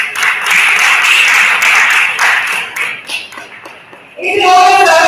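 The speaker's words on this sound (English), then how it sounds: "we welcome Mr. Shiva Degopa, the huge round of applause" Audience at an event on inclusive hiring applauds loudly for an incoming presenter, with steady clapping for about three seconds that fades, then a tonal musical sting enters near the end.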